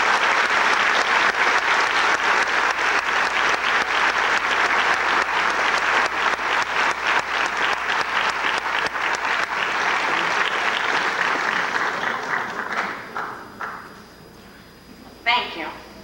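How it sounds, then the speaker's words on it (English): Applause from a high school audience honoring Army Reserve National Scholar Athletes, a dense, steady wash of clapping that holds loud for about twelve seconds, then thins into scattered claps with a brief final swell. "Let's give a round of applause for this year's Army Reserve National Scholar Athletes, Leslie Hickman and Bradley Blumenauer."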